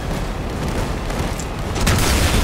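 A front-facing artillery cannon fires in Crossout, delivering a loud, heavy boom amid dense battle noise, with a stronger burst of blast near the end and no voices.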